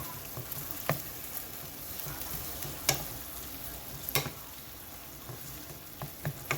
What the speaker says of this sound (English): I'm just gonna stir it some more.